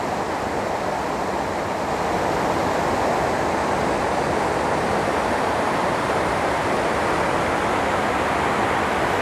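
Small feeder stream in the narrow Grindelwald glacier gorge, a steady, dense rush of flowing water heard close up with no pauses and no voices.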